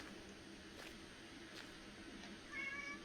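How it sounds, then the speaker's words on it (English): A pet cat in the survival game The Infected meows softly and briefly near the end, following a steady low ambient background with a few faint thuds. "here comes my kitty"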